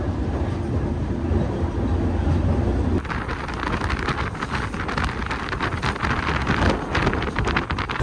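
A train travelling from Miraj to Surat rumbles steadily along the rails from inside a carriage, a dense continuous roar with rattling clatter, loud and close, and no talking.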